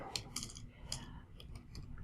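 Quiet, quick clicking of keys as an ISBN is typed on a computer keyboard, close by and irregular.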